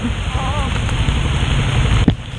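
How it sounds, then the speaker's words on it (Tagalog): Steady rain hisses loudly throughout during a mototaxi ride, with a brief whistling tone early on and a sharp knock near the end. "Ano talaga itong ulan na to, no?"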